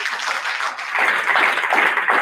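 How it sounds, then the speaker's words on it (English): Audience applause at a one-day orientation and honoring program, a dense wash of many hands clapping that swells louder after the first second and continues steadily, with no voices over it. "I would love for you to give yourself a round of applause"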